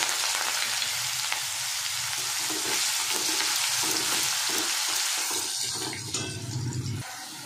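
Chopped onion dropped into hot oil with whole cumin and bay leaf for a rohu fish curry, a loud, dense sizzle with stirring scrapes that fades slightly toward the end.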